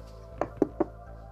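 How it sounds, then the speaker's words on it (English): Three distinct knocks on a door in the video game Barkley, Shut Up and Jam: Gaiden, evenly spaced and fairly loud over a steady low game hum. "Gotta knock nicely."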